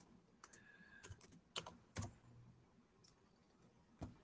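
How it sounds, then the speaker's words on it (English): Bursts of computer keyboard typing, quiet and close, with irregular clusters of key clicks separated by short pauses. "I'm just typing the answer"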